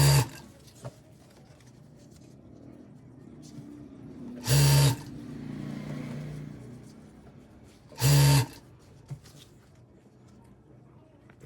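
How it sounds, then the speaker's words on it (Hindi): A sewing machine stitches along the elastic edge of full-elastic pants in a few short, sharp runs spread through the clip. A voice talks softly between the runs. "बिल्कुल किनारे पे हमने सिलाई चलानी है।"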